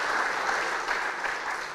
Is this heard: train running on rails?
no